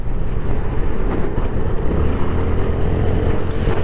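Vespa GTS 500 scooter engine pulling hard under acceleration, a loud, steady low drone with wind rush buffeting the microphone and no talking.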